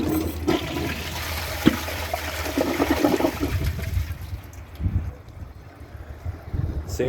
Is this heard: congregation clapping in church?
no